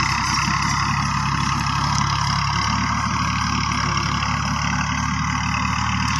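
A diesel tractor engine idles steadily close by, a constant loud, rumbling chug with a dense mechanical hum that continues unbroken without voices.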